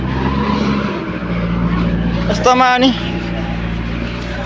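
A JCB excavator pushes a tractor along a rough rural track, its engine drone steady and close with a short strained whine, while a voice talks over it.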